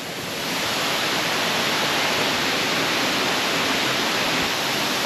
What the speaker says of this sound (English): you can hear the water, how loud it is, how many springs there are, how many waterfalls there are